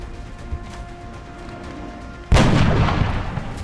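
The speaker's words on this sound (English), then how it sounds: "Van, you can shoot them from here." One heavy gunshot booms from the X-COM: Enemy Within strategy game, a sudden loud blast that follows a low steady hum and then rumbles and decays.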